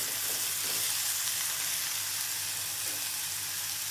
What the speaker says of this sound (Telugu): ఇవి కూడా వేసుకున్నాక మళ్ళీ కొంచెం సేపు మనం వేగనిద్దామండి